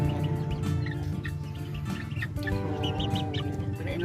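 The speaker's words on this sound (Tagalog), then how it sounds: "Ito pala yung Shamo na Shamo." Shamo gamefowl cluck and call continuously at close range, several birds overlapping in a busy, steady clamor.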